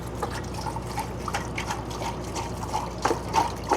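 Water pours and trickles into a crawfish boiling pot outdoors at a truck stop, a steady splashing fill with dripping, burbling accents at close range.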